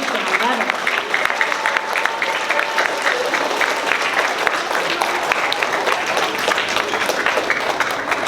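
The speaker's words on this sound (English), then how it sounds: "Students, could you turn around and give your parents a round of applause for supporting you?" Elementary school students at a fifth grade celebration give their parents a standing ovation, steady close applause from a crowd of children with cheering and voices mixed in throughout.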